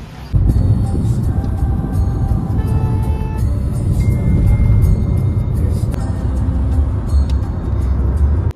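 A car engine and road rumble run loud and close as a group sets off together by vehicle, a steady drone that does not let up.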